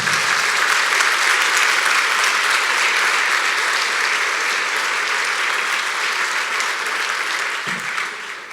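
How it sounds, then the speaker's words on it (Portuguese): An audience in a church applauds steadily and loudly, a dense wash of clapping that holds for several seconds before tapering slightly at the end. "Uma salva de palmas para ele, porque ele merece."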